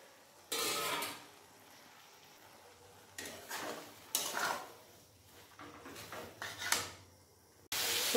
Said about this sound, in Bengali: এরপর এর মধ্যে দিয়ে দেবো ভেজে রাখা সয়াবিন